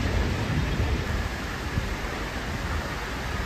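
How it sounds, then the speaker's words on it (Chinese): Heavy typhoon rain roars as a dense, steady hiss of downpour, loud and continuous throughout with no voices. "好大的雨，走不了了。"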